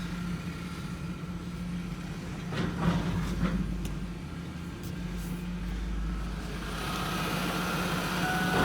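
A heavy old M3 halftrack engine rumbles steadily at close range, idling and then pulling along slowly with low mechanical clatter and a few creaks.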